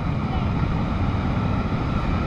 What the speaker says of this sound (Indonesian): dengan ombak yang relatif besar